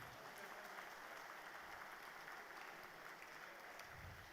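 An audience at the Ayurveda World Summit applauds in a steady, dense wash of clapping that fills the hall evenly from start to finish, without talk.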